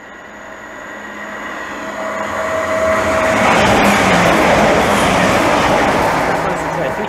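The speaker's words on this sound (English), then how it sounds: "now approaching, getting ready to pass by, is one Tango 27, the 1152 Great West Chiltern Railway Service from London Marylebone to Oxford" Chiltern Railways passenger train on the London Marylebone to Oxford service passing at Seer Green, a steady rushing rumble that swells as it draws near and stays loud and continuous, with faint rail clatter.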